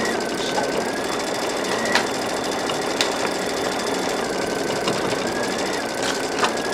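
An embroidery machine stitches a decorative wreath design, giving a steady, fast mechanical whir with faint periodic clicks and knocks running continuously at an even level.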